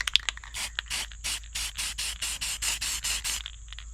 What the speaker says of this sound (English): I got some black spray paint right here